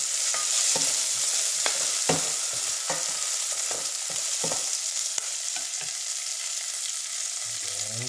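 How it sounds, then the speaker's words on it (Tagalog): Garlic and onion sauté in hot oil left from frying potatoes, for chicken adobo in coconut milk. A loud, steady sizzle runs throughout, broken by repeated close spatula scrapes and taps, with no voices. "sa pinagpirituhan ng patatas, tayo na rin ang magigisa ng bawang at sibuyas"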